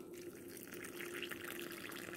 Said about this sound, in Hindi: तो यहाँ पे मैं इसको गरम पानी डाल रही हूँ